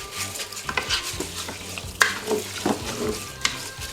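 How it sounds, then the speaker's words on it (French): Rice stirred in a pan after white wine is poured in, a continuous sizzle with repeated scraping strokes of a utensil and a sharp clink against the pan, close and without talk. "On remue."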